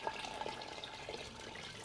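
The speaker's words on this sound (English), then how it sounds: "I've just adding another 10 litres of water into sparge water" Water pours steadily into the sparge water for a Brewzilla home-brewing setup, a faint, continuous trickling and splashing with no voices.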